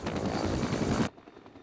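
A military search-and-rescue helicopter in flight gives a loud, steady, close rotor-and-engine roar that cuts off abruptly to a quiet background.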